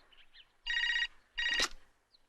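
A telephone bell rings in a Hindi Bollywood film scene, two bright electronic ring bursts separated by a short gap, moderately loud and alone with no talk over it.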